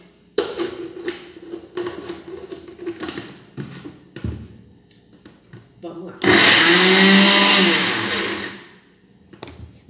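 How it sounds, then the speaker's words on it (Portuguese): Homemade onion seasoning with plenty of coriander blending in a kitchen blender. Tapping and clattering come first, then a loud sustained whirring motor runs for about three seconds before winding down. "Agora vamos bater tudo isso."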